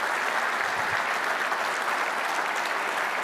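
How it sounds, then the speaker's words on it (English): Audience applause at a military logistics officers association keynote, steady dense clapping filling the whole moment, loud and sustained with no voices over it. "Please give them a round of applause."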